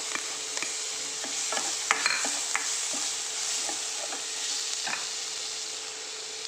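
Onion, ginger garlic paste and green chillies sauté in a pan for potato paratha filling: a soft continuous sizzle under repeated scraping strokes of a spoon, with a few sharper clinks against the pan.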